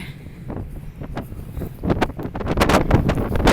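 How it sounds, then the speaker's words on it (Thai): Strong wind gusts across the top of a seaside tower on the Danish coast, a steady roaring buffet against the microphone that builds louder toward the end, with no voices. "ลมแห้งแรงมาก ลมแรงมาก"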